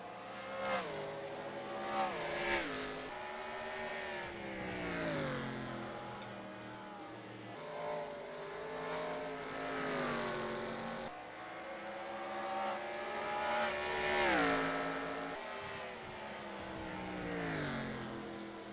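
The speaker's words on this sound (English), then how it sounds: "You can hear from the engine notes that go by that camera how much stronger the 45 is down the straightaway." Race car engines at a Busch series race, the 200 at the Toyota Owners event, screaming past a trackside camera, with several rising and falling engine notes sweeping by one after another, loud and continuous, with no talk.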